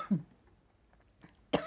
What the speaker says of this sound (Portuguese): estamos com uma tosse alérgica